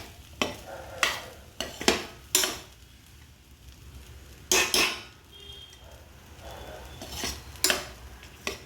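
A spoon scrapes and stirs millet flakes and moong dal upma in a pan, several sharp, close scraping strokes in uneven bursts over a soft, low sizzle.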